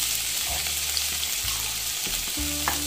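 Garlic cloves and tomato sautéing in a pan for a stuffed brinjal masala, a steady close frying sizzle with faint stirring over a low hum, no voices.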